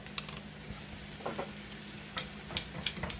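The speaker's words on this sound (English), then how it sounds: "by mixing in the butter into that flour, it's going to start to sizzle and make a roux." Butter and flour cook into a roux in a pan, giving a quiet, steady sizzle with faint crackles and occasional stirring scrapes, heard close and alone.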